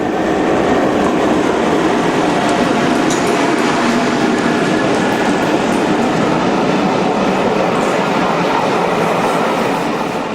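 Railtour charter train passing Norton Bridge in 2003, bound for a works open day: a loud, steady rumble of rolling stock with wheel noise held close and continuous for the whole stretch, no voices.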